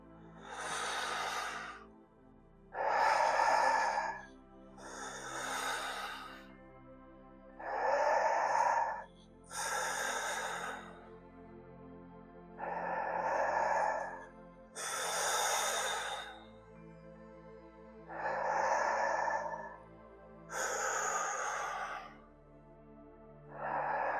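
Deep rhythmic Wim Hof-style breathing, about ten loud, close inhales and exhales alternating in a steady, even cycle with short pauses between breaths.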